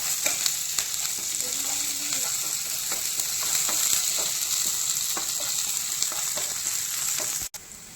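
Steady, close sizzling of onions and curry leaves frying in a pan, with occasional stirring clicks; the sound cuts off abruptly near the end.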